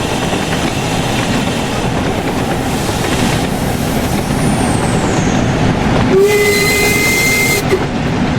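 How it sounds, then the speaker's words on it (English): A noisy train in Train Sim World 3 rolls downhill with a loud, unbroken mechanical rumble, and a shrill whistle sounds briefly near the end. "I do apologise for the noise, but these things are noisy trains."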